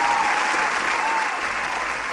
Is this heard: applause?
yes